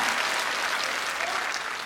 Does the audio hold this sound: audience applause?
yes